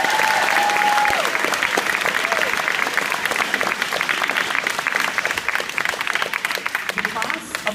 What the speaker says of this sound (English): Let's give our teachers, administration staff, and custodians a round of applause.